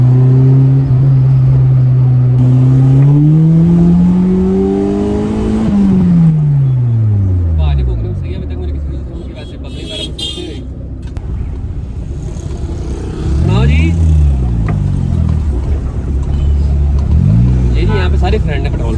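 A car engine revved after refuelling at a petrol station, loud and close, with rising and falling engine tones, a long climb then drop, followed by shorter revs; people talk nearby.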